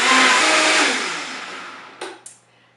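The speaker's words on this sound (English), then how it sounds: "Put it in on the blender. Start on low and we'll go to high." Countertop blender grinding oats into oat flour, a loud whirring roar that fades over about two seconds, followed by two short bursts as it is switched on briefly, no talking.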